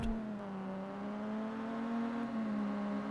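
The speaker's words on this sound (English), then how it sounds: "I hear my opponent's car right behind me." A race car engine drones steadily with a rising and falling whine close by, an opponent's car in the video game Ridge Racer Type 4, continuous and moderately loud throughout.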